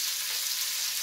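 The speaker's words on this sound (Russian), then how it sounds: "первую сторону я обжариваю на большом огне, чтобы она взялась, пожарилась" Small fish fry in a small pan over high heat, giving a steady, close, bright sizzle with no talking.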